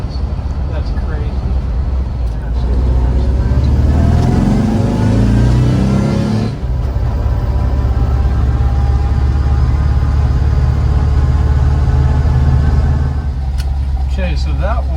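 Supercharged 1967 VW Bus driving around the block, its engine droning loudly and steadily with rising revs under excited talk from people inside.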